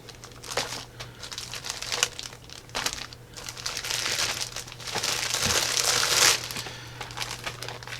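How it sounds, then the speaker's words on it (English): Plastic bags, nine by twelve inches, crinkling and rustling as Christmas baking kits are packed, with close, irregular crackles that swell into a denser, louder burst of crumpling near the end. "I'm going to put them in these plastic bags."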